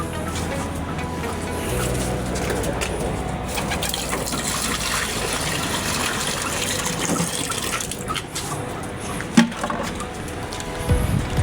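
Water poured into a container at a chicken coop, a continuous splashing gush running steadily for several seconds with a few knocks near the end.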